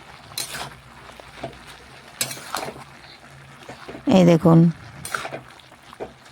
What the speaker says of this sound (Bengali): এখন কিন্তু খুরপি দিয়ে ভালোভাবে নাড়াচাড়া যাচ্ছে।